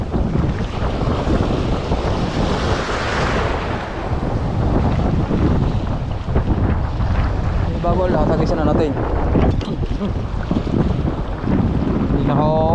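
Strong wind buffets the microphone at a rocky seaside fishing spot, a loud continuous roar with gusts and waves beneath, while someone speaks briefly over it.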